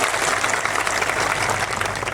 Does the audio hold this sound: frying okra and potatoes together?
no